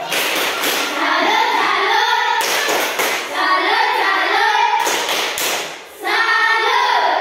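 Classroom group clapping a rhythmic salute cheer, three loud bursts of many hands with brief gaps between them, no talking.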